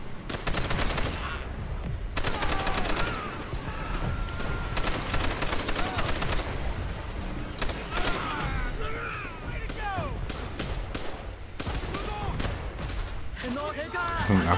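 Bursts of rifle and machine-gun fire from the Call of Duty: World at War campaign, rapid crackling volleys that come and go over the game's battle soundscape, with a player talking over it.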